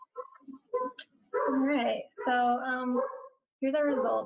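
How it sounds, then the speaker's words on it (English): A person speaks close to the microphone while a dog barks and yips intermittently in the background. "I apologize for my dog barking in the background."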